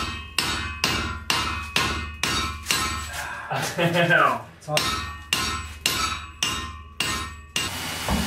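Blacksmith's hammer striking a semi truck steel leaf spring on a railroad track anvil set on a log and mat, about a dozen sharp ringing blows in steady rhythm, close and loud, with a short pause midway.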